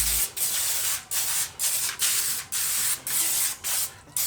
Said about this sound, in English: I spray them out with cooking spray too